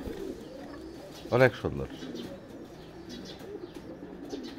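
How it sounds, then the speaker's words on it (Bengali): A pigeon at an old village house gives one close, clear coo in the middle of the stretch. A person speaks softly around it against light outdoor ambience. "অনেক সুন্দর কবুতর"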